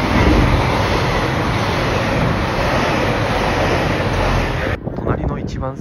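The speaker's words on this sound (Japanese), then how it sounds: "隣の一番線に快速エアポート86号の新千歳空港行きが入線してきました。" Rapid Airport 86 train bound for New Chitose Airport pulling into the adjacent platform, a loud continuous rumble and rush of rolling stock close by that cuts off abruptly near the end, with a voice talking over it.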